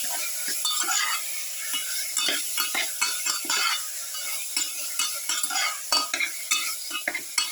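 Pepper garlic beef pilaf being mixed in a pan, a run of repeated scraping and clinking strokes of a utensil against the metal over a soft steady sizzle, close and without talk.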